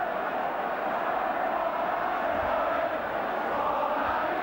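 Football stadium crowd at the Kop end at Anfield, Liverpool, chanting a player's name: a dense, steady roar of many voices echoing around the stands, loud and continuous.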